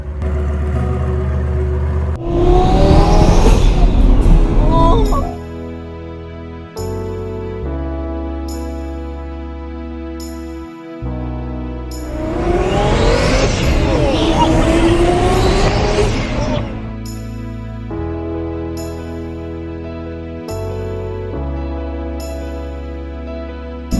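A twin-turbo Lamborghini Gallardo rated at 2,000 hp idles loud and close, with two long revving bursts that rise sharply and then fall back to a rough, steady idle.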